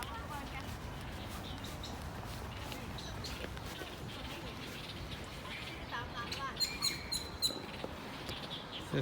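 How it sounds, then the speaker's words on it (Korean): Birds chirp in short, high, fairly faint calls in Hongmei Park in Changzhou, Jiangsu, China, scattered over the second half beneath steady outdoor ambience and footsteps on a walk. "새소리가 들린다. 새소리."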